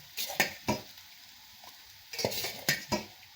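Poha (flattened rice) being stirred and turned in a pan, soft scraping strokes of a spoon in two short bursts with light sizzling and a faint clink between.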